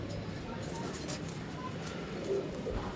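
Pigeons coo softly in a pigeon-keeping setting in Sialkot, low murmuring calls mixed into steady background noise, with people talking nearby.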